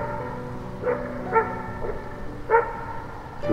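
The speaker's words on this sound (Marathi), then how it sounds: "दूरवर कुत्र्यांच्या भुंकण्याचा आवाज येत होता" Dogs bark at night from a distance, four or five separate muffled barks spaced irregularly over a steady low background hum.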